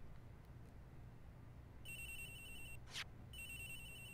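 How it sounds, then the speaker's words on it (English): A phone rings in the Ace Attorney Investigations video game, two faint electronic ring bursts with a brief pause between them over quiet background hiss. "Agent Hicks's phone! It's ringing from somewhere, sir!"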